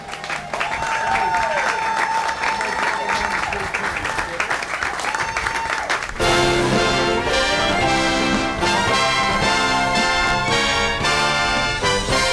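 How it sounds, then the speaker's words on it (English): An audience at a 4th of July patriotic program applauds elementary students with dense, steady clapping for about six seconds before loud music abruptly takes over. "Give them a round of applause."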